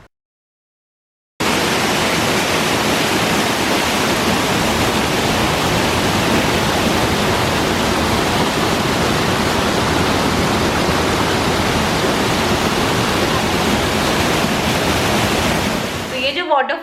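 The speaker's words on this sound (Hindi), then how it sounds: "वाटरफॉल है" Broad, steady roar of a waterfall at Rishikesh, loud and continuous after a brief silent start, rushing water filling the scene evenly for about fifteen seconds before cutting off.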